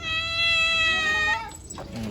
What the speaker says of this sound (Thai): เดี๋ยวน้องพาวเขาจะเอาอาหารมาให้แมวนะครับ